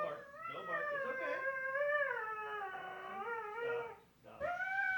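A dog named Willow whines and howls in long, wavering, drawn-out cries indoors, fairly close. A short break comes near the end before another rising whine.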